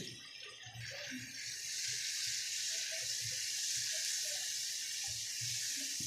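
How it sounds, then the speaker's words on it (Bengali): Masala of tomato, ginger, chili powder, turmeric, cumin and salt fries in a pan for a vegetarian potol dish, giving a steady, bright sizzle with a few soft clinks and stirring sounds beneath it. "মশলাটাকে আমি খুব ভালো করে কষিয়ে নেব, যতক্ষণ না টমেটোর আর আদার কাঁচা গন্ধটা না যায়"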